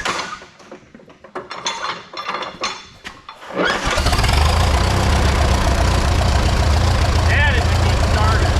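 A Twin City tractor engine cranks over with uneven chugs, then catches and roars into a loud, steady running idle. Speech can be heard during the cranking.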